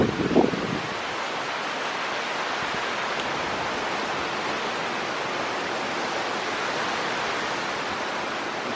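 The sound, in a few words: hurricane wind whipping, Hurricane Francine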